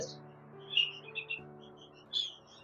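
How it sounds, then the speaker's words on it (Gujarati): Young birds, including parrot, myna, partridge and sparrow chicks at an animal care shelter, give faint, high chirps that come in short scattered bursts over a steady low hum. "બચ્ચાઓ આવતા હોય જેમાં પોપટ છે મૈના છે જેમ કે આ બીજા પક્ષીઓ છે તેતર છે આ બધા ચકલીના બચ્ચા પણ છે"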